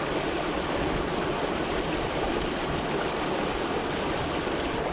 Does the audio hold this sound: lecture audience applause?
no